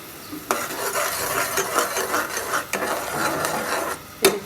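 Spice paste of turmeric, chilli powder and ground coriander fries in oil, with a steady sizzle under repeated scraping strokes of a spatula against the pan and a sharp metallic clink near the end, no talking.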